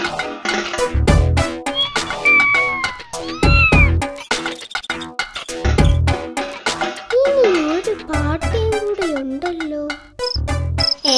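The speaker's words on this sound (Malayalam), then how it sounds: "കുന്നം പൂച്ച എടുത്തോണ്ട് പോട്ടെ, എനിക്കെന്താ." Cartoon cat meows repeatedly in short, pitched calls with rising and falling bends, close and loud, broken by brief gaps and soft background noise.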